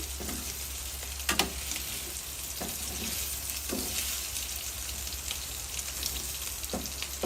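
Unmarinated chicken breast fries in hot oil in a home kitchen, a steady close sizzle and crackle with occasional louder pops and stirring knocks, and no talking.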